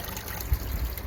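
Faint, close trickle of water in a small solar-powered pond water feature with a spillway, a soft continuous dribble with slight bubbling over a brief moment.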